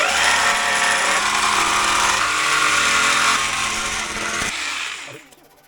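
A power sander whines steadily while sanding the body surfaces of a 1980 MK1 Golf GLi, loud and close with a harsh buzzing roar that holds for several seconds, then drops away as the tool winds down.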